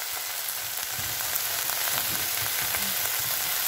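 Spinach sautés in a hot pan with a steady, close sizzle and light crackling, with no voices over it.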